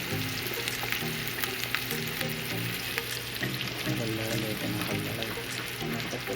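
Onions frying in oil for chicken biryani, a constant dense sizzle with occasional stirring clatter, heard up close under a soft background hum.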